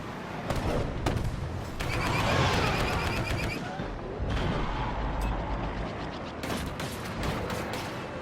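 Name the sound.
concussion missiles firing in the video game Hero Starfighters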